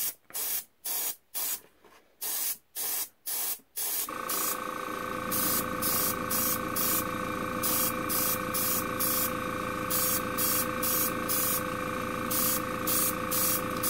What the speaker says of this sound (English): I want a good, even coat, and I'll show you why.